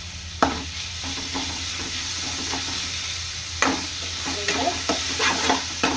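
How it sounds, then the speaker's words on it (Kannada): Grated raw mango frying in a pan for mango chitranna: a steady sizzle under a constant background hum, with occasional louder scrapes and clatters as the mixture is stirred. No one speaks. "ಇದು ಕೂಡ ಫ್ರೈ ಆಗ್ತಾ ಇದೆ"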